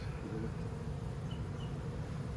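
Bees buzz around an owl house hive crowded to the point of swarming, a steady, faint, low hum with no voices over it.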